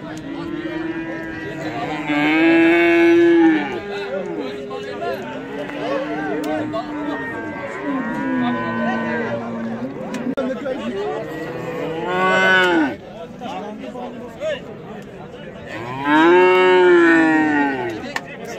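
Cattle and calves moo repeatedly at a livestock market, long loud bellows rising and falling near and farther off, under steady chatter of traders.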